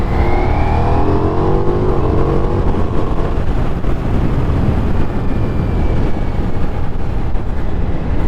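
A Ducati Diavel V4 motorcycle accelerates hard in touring mode, its engine note climbing loudly and then settling into a steady roar mixed with strong wind rush, close and continuous throughout.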